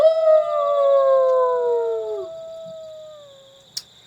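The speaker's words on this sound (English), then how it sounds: "Sounds like a pack of wolves about a mile or so away" A long, eerie wolf howl rises and slowly falls away, with a second fainter, thinner howl trailing on behind it. One brief exclamation cuts in near the end.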